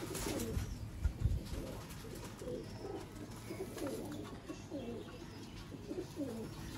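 Soft, low cooing from Sialkoti pigeons repeats in rhythmic phrases over a steady background hum, with a couple of brief thumps near the start.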